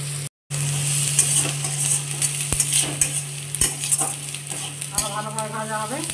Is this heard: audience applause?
no